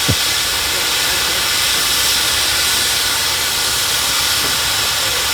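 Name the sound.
steam ploughing engine hissing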